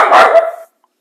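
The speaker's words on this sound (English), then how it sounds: "Sorry for my dog barking there." One sharp, close dog bark rings out loud and alone, then cuts off into silence.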